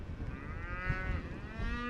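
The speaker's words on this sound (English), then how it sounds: "Right, John, Lottie, the cows are now coming into our site and they are mooing." Cows mooing as they wander into a garden site, one long, low, drawn-out bellow rising and falling, close by and loud, with no talk over it.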